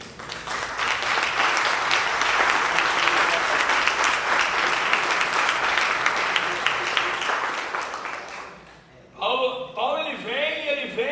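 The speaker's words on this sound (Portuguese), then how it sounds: "Vocês podem aplaudir Jesus por isso?" Church congregation applauding during a teaching seminar: dense, sustained clapping for about eight seconds, then it fades and a voice begins speaking over light residual noise.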